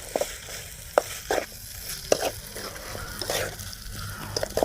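Green chillies are stirred into a sizzling pigeon pepper roast in a pan, with a steady frying hiss broken by sharp spoon scrapes and clicks.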